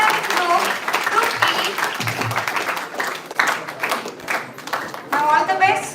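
An audience applauds a final group of participants at an event, with dense clapping that holds across the clip and a voice talking over it.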